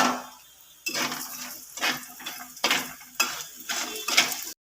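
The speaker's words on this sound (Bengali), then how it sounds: "মাছ ভাজা ওই গরম তেলে বড়িটাকে ভেজে তুলি" Lentil dumplings (bori) fry in hot oil already used for frying fish, with repeated scraping stir strokes and clinks of a utensil against the pan over a soft, steady sizzle.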